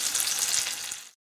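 Butter melting with oil in a hot pan before carp goes in, a steady bright crackling sizzle that holds for about a second, then cuts off abruptly into silence.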